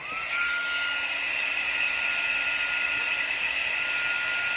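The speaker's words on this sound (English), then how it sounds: "I'm going to take my heat tool." Heat tool blowing on a Halloween card craft project with deco foil: a loud, steady high-pitched whirring hum running continuously and close up, with no talk.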